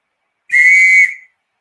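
A shrill double-ended police whistle blown once, loud and close, a steady piercing tone lasting about half a second before cutting off.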